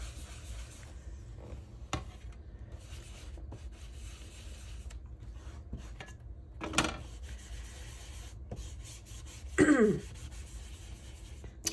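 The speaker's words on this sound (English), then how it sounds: "Sorry that I'm clearing my throat" A quiet room with a couple of brief knocks, then a single rough throat clearing near the end, close and fairly loud against the hush.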